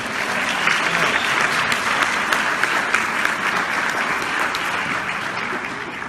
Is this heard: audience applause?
yes